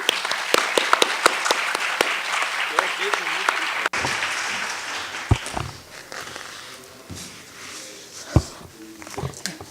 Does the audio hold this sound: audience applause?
yes